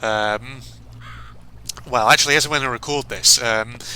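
Crows in Sir, You Are Being Hunted caw loudly and repeatedly in several harsh bursts close by. Someone talks over part of it.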